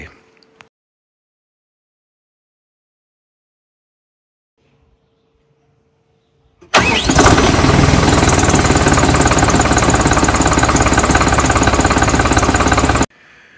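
After a few seconds of near silence, the SDF 1000.3 WTI diesel engine of a 2022 Deutz Fahr 4075E tractor starts and idles loudly and steadily close by, with a rough, knocking rumble, then cuts off.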